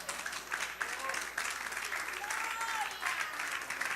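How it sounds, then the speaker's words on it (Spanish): A church congregation applauding during a Christology seminar, sustained loud clapping throughout with some voices mixed into the crowd. "Dale un aplauso al Señor por la vaina."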